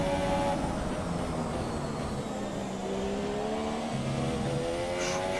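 An F1 race car engine in the F1 2017 racing game runs at high revs in rich mode, a constant buzzing whine with pitch sweeping up and down through gear changes, accompanied by a steady road rumble and no voices.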